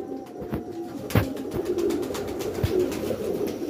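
Pigeons coo softly in low, throaty murmurs, with a few scattered sharp clicks and rustles nearby.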